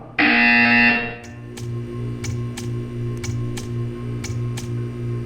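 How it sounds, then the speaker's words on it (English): A loud electronic buzzer in the video game Portal 2 sounds for under a second, followed by a series of quieter sharp clicks against a steady low hum. "You will hear a buzzer."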